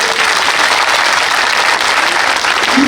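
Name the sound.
audience applause at Independence Day event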